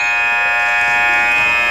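A basketball game buzzer at a high school game blares loud and steady, one continuous harsh electronic tone filling the whole moment with no voices over it.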